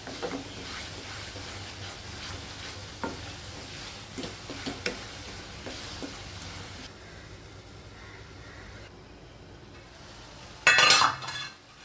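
A pan of frying ingredients hisses softly while a spoon stirs and scrapes at intervals, with light clicks of utensil on metal, then a short louder clatter near the end; no voices.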